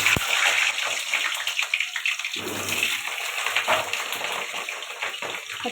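Potatoes fry in hot oil for a chicken dish, a dense, loud, hissing sizzle that swells after a sudden surge and churns on steadily.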